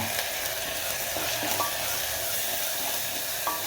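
Ginger garlic paste with turmeric sizzling among frying onions for a spinach dal, a steady broadband crackle and hiss held at an even level throughout, with faint stirring clinks near the pan.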